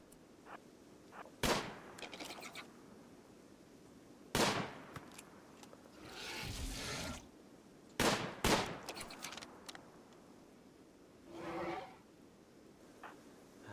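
Colonist Jackson firing a gun in RimWorld, a handful of short sharp shot bursts spaced a few seconds apart, fairly faint over a quiet background, with one longer crackling burst in the middle.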